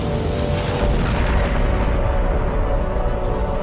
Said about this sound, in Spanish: un acontecimiento misterioso puso el universo en marcha, con una explosión